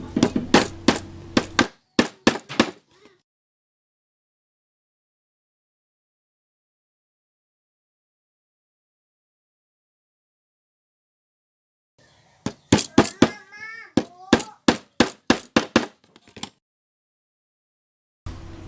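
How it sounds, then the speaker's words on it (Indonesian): Small nails are tapped into the coupler section of a model KRL KFW I9000 train chassis: a few sharp, light taps, a long silence, then a quicker run of about a dozen crisp strikes. "kita akan paku bagian sini"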